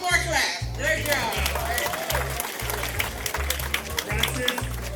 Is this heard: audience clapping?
yes